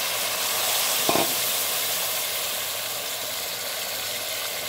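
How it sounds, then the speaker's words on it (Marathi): Vegetables hit a hot pan for vegetable biryani, setting off a loud, steady sizzle and hiss with a brief clatter early on, then continuing evenly on their own with no talking. "चला तर आपण आता त्या भाज्या टाकून देऊया."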